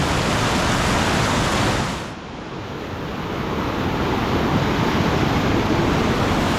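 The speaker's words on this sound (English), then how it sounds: "We just forded the river." River water rushing steadily through a canyon, a loud, continuous broadband roar that dips briefly partway through and then returns to full strength, with no voices.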